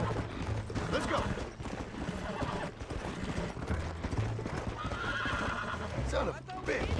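Horses in Red Dead Redemption neigh and whinny amid galloping hoofbeats and gunfire during a chaotic western shootout, with voices shouting over the action.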